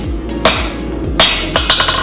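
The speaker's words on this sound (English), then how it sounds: "I'll just flip it over, give it a couple hammers from the other side." Steel hammer blows on a forged steel taper, four sharp ringing metallic strikes spaced unevenly over a loud, steady forge roar.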